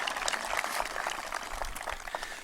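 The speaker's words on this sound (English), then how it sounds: "Another round of applause." Audience applause at the Triton High School class of 2019 commencement, a steady, fairly faint wash of clapping that holds through the whole stretch.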